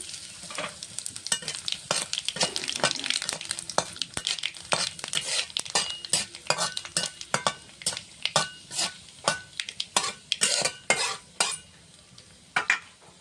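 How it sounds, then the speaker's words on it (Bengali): Bay leaf, dried chili and nigella seeds hit hot oil for a fish curry tempering, sending up close crackling sizzle with rhythmic clinks and scrapes of a spatula against the pan, no talking. "ফোড়নে দিব তেজপাতা, শুকনো লঙ্কা"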